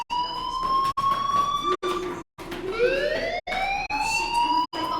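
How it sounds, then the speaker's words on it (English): A school fire alarm in the game Life is Strange wails in rising and falling electronic tones, loud and insistent, broken by several brief silent gaps between sweeps. "do you hear that fire alarm?"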